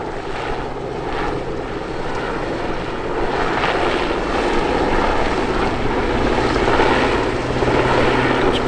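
A Westland Sea King helicopter flies a role demonstration at the Midlands Air Festival, its rotor and engine roar steady and loud throughout, swelling slightly as it nears.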